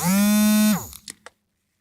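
A loud, steady electronic buzzing tone holds for under a second, then cuts off into a few quick faint clicks and a brief chirp before silence.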